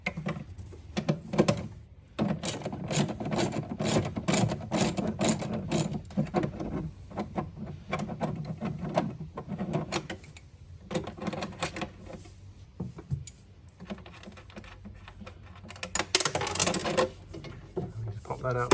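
A ratcheting socket wrench with an extension undoing M10 nuts on a car bulkhead, giving repeated clicking ratchet strokes in irregular bursts with brief pauses, close and fairly quiet.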